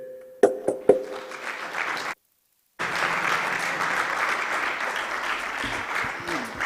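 Audience applause for 2021 award winner Maria Ressa at a World Press Freedom Day ceremony, with a voice and a few sharp knocks at the start, a brief dropout, then sustained steady clapping.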